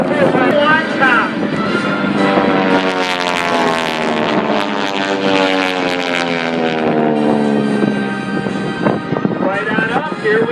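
Propeller aerobatic aircraft of the Aeroshell team roaring through a triple cross formation at an air show, engine drone rising and falling loud and close with wind buffeting, under an announcer's talk.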